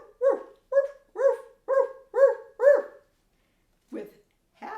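Clifford the dog barks six times in a steady beat, close and clear, then after a pause gives two more separate barks.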